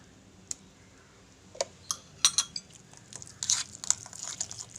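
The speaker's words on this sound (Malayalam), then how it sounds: "അപ്പം കുറച്ചും കൂടെ വിനീഗർ ഒഴിച്ച് കൊടുത്ത് നമുക്കിതങ്ങ് മിക്സ് ചെയ്യാം." Dates pickle being stirred with added vinegar, giving scattered sticky clicks and crunchy scraping strokes that grow busier toward the end, close and fairly quiet with no talk.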